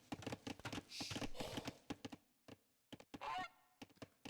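Geese honk in the Age of Empires 2 video game, sounding as several short nasal calls mixed with clicking and clopping game effects, with bursts separated by brief gaps.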